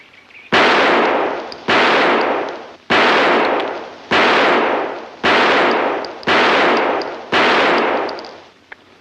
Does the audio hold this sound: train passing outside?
no